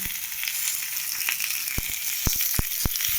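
Salt, turmeric, ginger, cumin and a green chilli paste sauté in a pan, a continuous bright sizzle punctuated by several sharp utensil clacks against the pan.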